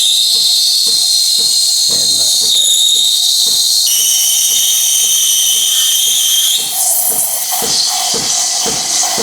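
Espresso machine steam wand aerating milk in a jug for a flat white, a steady loud high hiss with rhythmic paper-tearing chirps repeating about twice a second, brightening as the tip sits just inside the milk.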